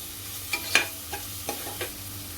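Onion sautéing in a pan for Koli-style spicy masala dal, a low sizzle broken by about five sharp spatula scrapes and taps, no voices.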